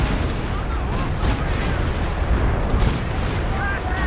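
Artillery barrage in the Company of Heroes 2 real-time strategy game, a dense rumbling wash of overlapping distant booms and gunfire that runs continuously, with a commentator's voice partly mixed in.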